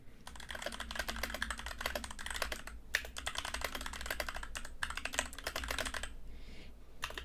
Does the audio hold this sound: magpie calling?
no